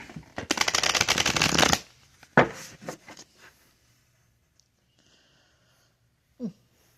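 Cards riffle briskly for a couple of seconds, followed by a quick bridge snap and a few soft handling sounds, then near silence.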